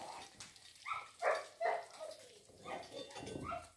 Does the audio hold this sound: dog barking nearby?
yes